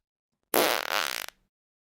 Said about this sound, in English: the opposite of a Bart is a ... fart, in which case you'll hear this sound effect.